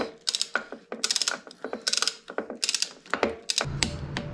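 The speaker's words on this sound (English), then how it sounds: "So I've got the torque wrench here. And it's set to 24 foot-pounds." A torque wrench set to 24 foot-pounds tightens bolts on a CRF150F motorcycle build, with a run of quick ratcheting clicks in bursts, close and crisp, over a quiet workshop background.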